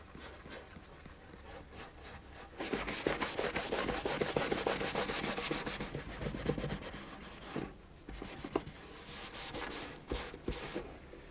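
A metal file rasps across a varnished wooden instrument body, a close, dry rubbing scrape in sustained strokes with short pauses and brief quieter gaps.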